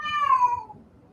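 A single close, clear cat meow with a falling pitch, loud for about half a second and then fading out, heard alone without any talk.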